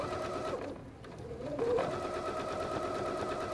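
A sewing machine stitches quilt binding in a steady, continuous mechanical hum with a brief slowdown early on, close and even throughout.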